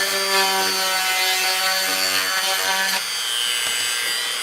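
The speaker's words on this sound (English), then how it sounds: "I don't want to drill through the other side." Steady, close drilling into a piece of wood as a power tool bores a hole, with a continuous grinding whir that holds level and eases slightly near the end. Nobody speaks.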